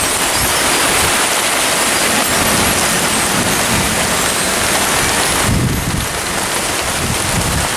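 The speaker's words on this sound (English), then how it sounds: "Oh, now I'm getting rained on." Steady heavy rain from a nighttime thunderstorm near a port, a loud continuous hiss with a low rumbling undertone throughout and a brief swell in the low end toward the end.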